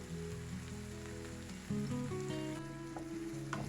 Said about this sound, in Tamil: இந்த ப்ரோக்கோலி கேரட்டுகள் எல்லாம் கொஞ்சம் ஃப்ரை ஆகி வந்து கொண்டிருக்கு